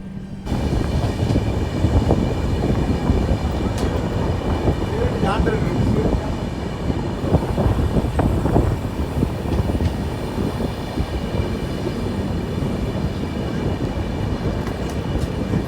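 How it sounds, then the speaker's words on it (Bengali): A Kanyakumari to Chennai Egmore train enters Valliyur railway station, heard from on board as a loud, steady rumble of wheels and carriages with rattling clatter throughout. "আমরা ঢুকছি এখন ভার্লিউর স্টেশনের দিকে"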